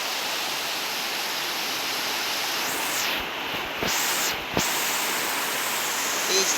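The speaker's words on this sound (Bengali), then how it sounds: "প্রচুর পরিমাণ বৃষ্টি, অনেক বৃষ্টি হচ্ছে।" Heavy rain pours down steadily in a broad, hissing wash, with a couple of brief dips and soft knocks partway through, and no clear voices over it.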